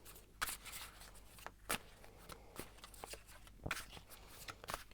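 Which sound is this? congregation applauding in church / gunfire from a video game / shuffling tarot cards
shuffling tarot cards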